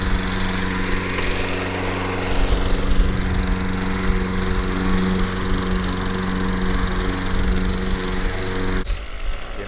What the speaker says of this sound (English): Maybe you need to be mowing the yard